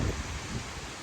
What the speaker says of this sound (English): it's windy. Like really windy.